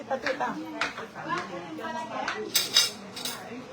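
Dishes and cutlery being handled in a home kitchen, with scattered clinks and clatters of plates and utensils under nearby talking.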